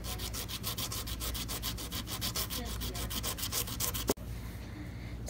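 A 2001 zinc-core penny is rubbed on sandpaper in rapid, steady back-and-forth strokes, a close continuous scratchy rasp that stops abruptly near the end, with no talking.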